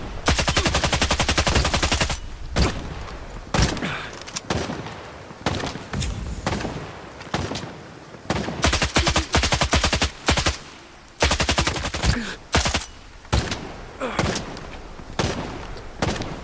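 Rapid gunfire in S.T.A.L.K.E.R. 2: Heart of Chornobyl, loud sustained bursts followed by repeated sharp single shots spaced irregularly, from a DMR or sniper rifle, close and punchy.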